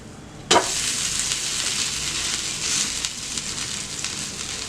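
Wheat adai frying in oil on a pan: a sudden loud sizzle burst, then a steady hissing crackle that carries on close and even, with no voices.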